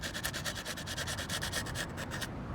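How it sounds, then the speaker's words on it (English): Sandpaper rubs in rapid steady back-and-forth strokes over curb damage on an 18-inch Tesla Model 3 wheel, a close, continuous gritty scraping that stops abruptly near the end. "work on getting just the rough spots out, the high spots"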